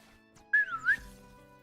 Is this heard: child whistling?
yes